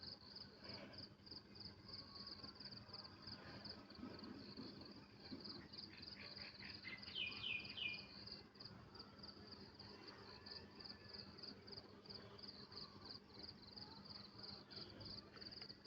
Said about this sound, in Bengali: ঝিঝি পোকারা অনেক সুন্দর ডাকতেছে।